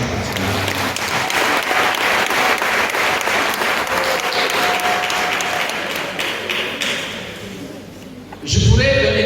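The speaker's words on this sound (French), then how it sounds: "je crois que ça mérite qu'on acclame le Seigneur" A church congregation breaks into sustained, loud applause to acclaim the Lord, the clapping dense and continuous before it tapers off and a voice returns near the end.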